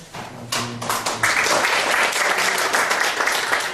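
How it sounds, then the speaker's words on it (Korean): An audience at a lecture on future local-government leadership breaks into applause after a short tonal sound, the clapping building quickly and holding steady and fairly close for several seconds. "송정훈 박사님께 다시 한번 큰 박수로"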